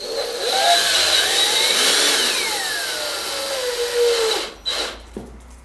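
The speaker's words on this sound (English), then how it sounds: "drill and then I'll put the screws in" A power drill drives screws into metal during a cargo trailer conversion, whining loudly and continuously, its pitch rising and falling as it bites, then cuts off with a couple of short bursts.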